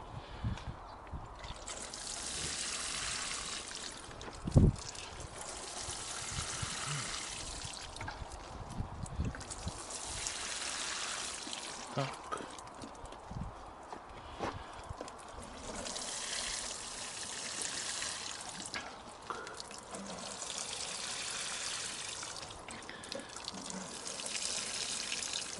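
Warm water pours and trickles steadily while pepper plants are watered in a greenhouse, with a faint splashing flow running throughout and a brief louder knock near the start.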